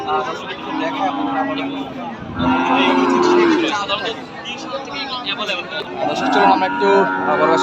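Cows low amid the steady crowd babble of the Raniganj cattle market, where thin, bony dairy cows are for sale; the calls are moderately loud and close, with people talking throughout.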